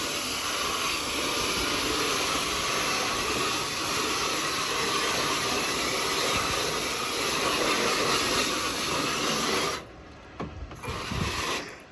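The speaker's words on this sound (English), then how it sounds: "I'm gonna go ahead and spray it with water." Water sprays across an engine bay during cleaning, a continuous broad hiss held steady and close, then breaking into short, sputtering bursts near the end.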